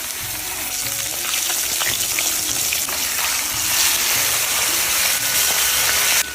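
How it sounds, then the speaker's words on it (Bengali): Fish frying in hot oil in a pan crackles with a loud, dense, steady sizzle from start to finish, close up with faint stirring, and no voices. "মাছ ভাজা হয়ে গেছে আর নামাই নেব"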